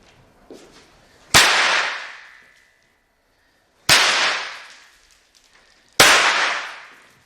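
Super snap firecrackers go off in three separate very loud, sharp blasts, each cracking suddenly and then fading through a short ringing decay, with quiet gaps between them.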